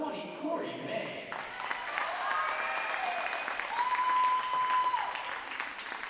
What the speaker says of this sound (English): Let's have another round of applause for the Lynchburg Volleyball class of 2022.